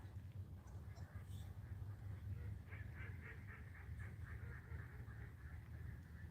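A noisy flock of ducks calls outdoors at night, overlapping honking quacks repeating loudly and continuously over a low rumbling background, with no talk.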